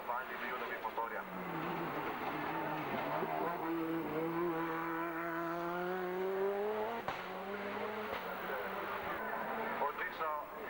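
Race cars climb the Ilirska Bistrica hill course, with engines wailing and rising in pitch as they pass at mid distance, a steady motor drone throughout, and a commentator talking over it.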